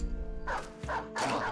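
A dog in the video game Battle Brothers gives two short, clear yelping barks about half a second apart over a steady low game hum.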